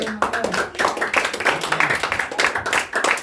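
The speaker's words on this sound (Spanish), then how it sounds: "Denle un aplauso al Señor" A church congregation claps in a quick, fairly rhythmic burst of hand claps, heard close and moderately loud with voices mingled in.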